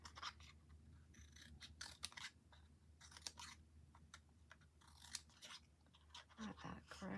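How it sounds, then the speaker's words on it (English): Scissors snipping through paper flowers for a handmade card, a series of short crisp cuts at close range, irregularly spaced, with faint background noise. "And with my scissors, I just cut in"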